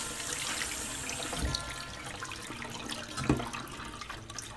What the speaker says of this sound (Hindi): अब हम इन्हें ठंडे पानी से धो लेंगे कि ये फिर चिपके ना।